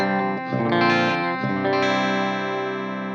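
Clean electric guitar tone played through an amplifier with no pedal engaged, a few chords struck and left ringing loudly with a sustained decay.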